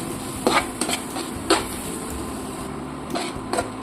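A spoon stirring chilli powder into a pan with ginger, giving irregular metallic clinks and scrapes against the pan over a quiet background.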